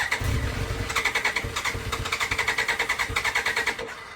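BMW K1 motorcycle pulled from a barn after 18 years, its engine cranking over in a rapid rhythmic chug that stays steady without clearly catching, close and moderately loud.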